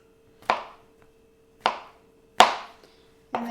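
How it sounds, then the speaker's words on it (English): A knife dices a portobello mushroom cap on a cutting board, four separate crisp chops spaced about a second apart, close and clear with near silence between them. "we're going to start by dicing the portobello mushroom cap"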